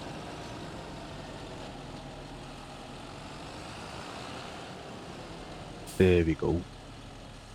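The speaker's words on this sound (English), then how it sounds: "I will park the tractor and this Wind Rover right here near the shop." A tractor engine rumbles steadily at low idle while being parked beside a farm shop, a constant close drone throughout, with a short spoken remark near the end.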